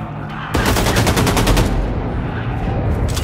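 Dual-wielded automatic guns fire in Wolfenstein 2: The New Colossus, a loud, dense stream of rapid shots that bursts in after a brief quiet start and rattles on without pause to the end.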